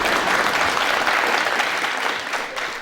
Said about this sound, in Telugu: ఇప్పుడు ఎక్కువగా చప్పట్లు కొడతారు.